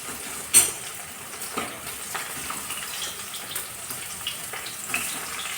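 Fish frying in a pan, a soft steady sizzle with occasional faint pops and clicks, quiet and alone.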